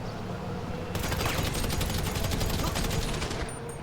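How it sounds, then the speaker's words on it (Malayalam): Gunfire in the video game GTA, a rapid burst of crackling automatic shots over a dense game soundscape, with no one talking. "ആരോ വെടി വെക്കുന്നുണ്ട് കേട്ടോ."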